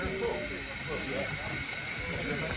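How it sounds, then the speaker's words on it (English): A steady, moderately loud hiss from a parked steam engine at a country outdoor event, a continuous broadband rush heard close up with a faint voice mixed underneath. "I'm going to go and quickly have a look at this steam engine at the front."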